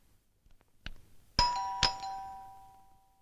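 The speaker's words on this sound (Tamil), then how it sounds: "காலிங் பெல் அடிக்குது, யாருன்னு பாரு" An electronic doorbell chimes twice, clear two-tone notes ringing out in a quiet room, preceded by a faint click.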